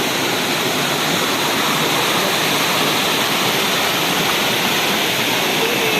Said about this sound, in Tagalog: Naabot na jud mi sa falls mismo, sa Lagaan Falls